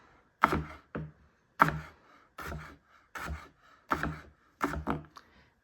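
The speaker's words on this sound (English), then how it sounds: "So I'm going to angle my knife and I'm going to start chopping like this." A knife chops through crisp celery on a cutting board, six or so distinct thunks at a steady, unhurried pace, close and fairly quiet.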